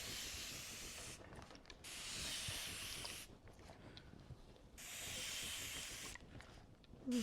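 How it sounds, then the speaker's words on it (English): Pressurised spray-bottle mist directed at a pet owl, three long hissing bursts of close, bright spray separated by short quiet pauses, with no talking. "he loves it when I spray him"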